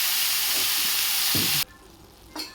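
Ridge gourd curry sizzling loudly in a pan during stirring, the frying hiss cutting off abruptly partway through, then a quieter stretch and a brief scrape near the end.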